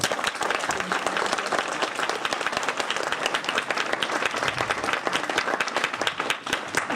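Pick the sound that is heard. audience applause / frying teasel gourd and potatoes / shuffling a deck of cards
audience applause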